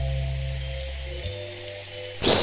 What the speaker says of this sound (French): il y a l'événement pluie que j'avais acheté